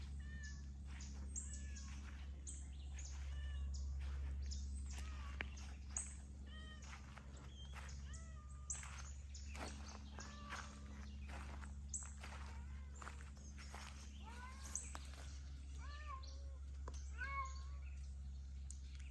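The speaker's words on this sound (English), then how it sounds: "I hear a cat." A cat meows repeatedly, faint and somewhat distant, in short calls spread across an outdoor walk to a river with young longhorn cattle, with soft footsteps and occasional birds in the background.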